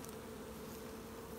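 Honeybees buzz steadily around an open hive during a spring inspection, a soft continuous drone of many insects close by, faint and without talk.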